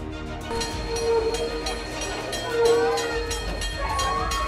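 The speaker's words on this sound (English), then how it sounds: "a horrific incident occurred on the New Hope Valley Railroad as screeching metal and chaos filled the air" A train on the New Hope Valley Railroad rumbles nearby during an accident, with high metallic squeals rising over a dense rolling roar. The loud, steady mix holds through the whole stretch.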